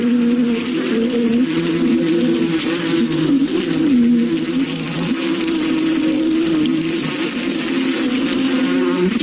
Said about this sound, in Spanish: las abejas arremeten al avispón mordiéndolo y picándolo varias veces